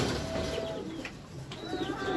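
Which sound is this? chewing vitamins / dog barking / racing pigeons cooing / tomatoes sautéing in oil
racing pigeons cooing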